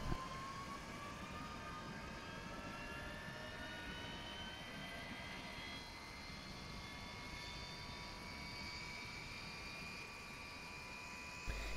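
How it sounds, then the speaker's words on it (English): A simulated Boeing 727 jet engine spooling up in FSX, a steady rising whine over a broad roar that holds loud and even throughout, with no talk. "Let's get the engine started."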